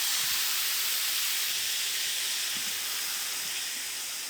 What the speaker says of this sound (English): I'm gonna almost start to steam or poach the salmon after we've cooked it on the one side